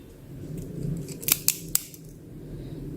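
Crispy fried noodles for manchow soup crunch in a kitchen, giving three or four sharp, close crackles in quick succession over a low steady background hum, with no talking.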